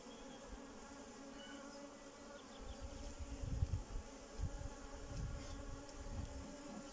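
Honeybees buzz at an open mother hive during an April inspection, a steady close hum with swelling lower rumbles as frames are handled, and no voices.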